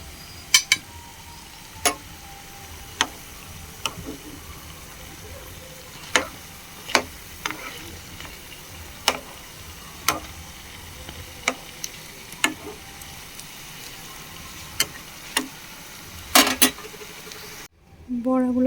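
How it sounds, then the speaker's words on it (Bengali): Pointed gourd fritters lifted one by one from hot frying oil, giving scattered sharp clinks and taps of a utensil against the pan over a faint, steady sizzle in a quiet kitchen. "ভাজা হয়ে গেছে, একে একে আমি এগুলো একটা পাত্রে তুলে নেব।"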